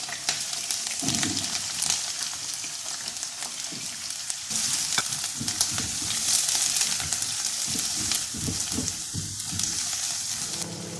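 Medium onion rings frying in hot oil in a pan, a steady crackling sizzle with occasional stirring scrapes and bursts of louder spitting, close and continuous with no talk.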